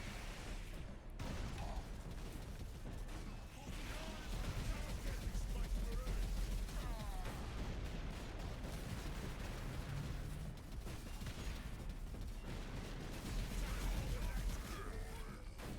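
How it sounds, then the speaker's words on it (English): Las cannon fire in the Space Marine: Master Crafted Edition video game, booming bursts and mechanical clatter of battle repeating through the clip, with a player talking over the fighting. "This is a las cannon."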